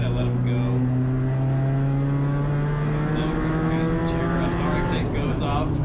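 A Spec Miata's engine drones loud and close from inside the car during a race at MSR Houston, its pitch climbing steadily under acceleration while another race car passes nearby.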